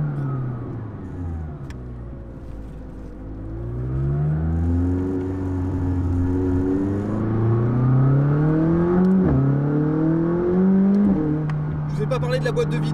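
A McLaren 600LT engine drones from inside the cabin, its pitch rising and falling with the revs as the car pulls, a steady close mechanical hum under a voice.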